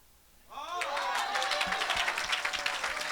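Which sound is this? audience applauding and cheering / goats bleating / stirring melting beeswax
audience applauding and cheering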